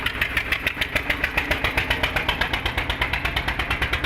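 A tractor engine idles steadily nearby at a tractor market in Malout, with a fast, even chugging pulse and no one speaking.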